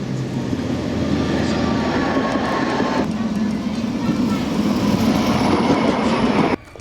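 A Prague 15T low-floor tram gives a deep, steady rumble, close and loud, with faint rail clatter running through it and cutting off abruptly at the end.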